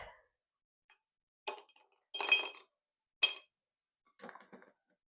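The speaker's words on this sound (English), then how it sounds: "We are also going to add ice to our rocks glass." Ice cubes dropped into a rocks glass for a blueberry bourbon smash, several separate bright clinks and clatters spaced out over a few seconds against near silence.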